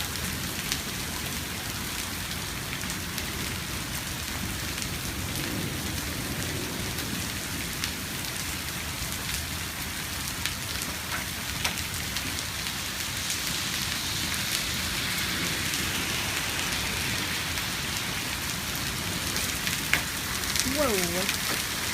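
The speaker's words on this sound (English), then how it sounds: "Still hailing." Hail falls steadily outdoors near a garage and yard, a dense continuous patter of ice striking surfaces that holds an even level throughout, with a faint brief voice near the end.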